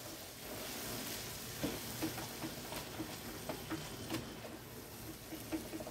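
Turmeric and spices stirred in a frying pan for matar paneer, a faint low sizzle with light, regular ticking taps of the spoon against the pan, no voices.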